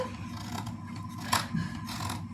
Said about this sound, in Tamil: இந்த எக்ஸ்ட்ரா கிளாத்தை வந்து நான் கட் பண்ணி விட்டுக்கிறேங்க